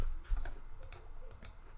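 Quiet keyboard typing as a zip code goes into a real estate listings website: a few soft, scattered keystroke clicks in small clusters over a faint background hum, with no speech.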